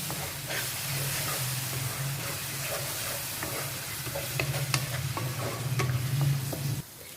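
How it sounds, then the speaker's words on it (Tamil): Ground tomato sautés in hot oil in a pan with a steady, close sizzle and hiss, broken by occasional stirring scrapes and pops for several seconds before cutting off near the end. "இது நல்லா நம்ம இந்த எண்ணெயில் தக்காளியை நல்லா வதக்கிக்கலாம்."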